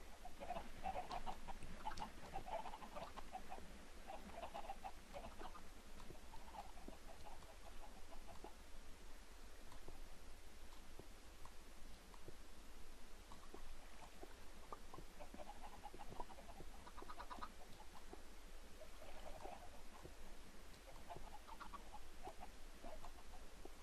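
Chickens clucking in the Minecraft video game, several birds giving soft scattered clucks over a steady noisy background, fairly faint and continuous with no talking.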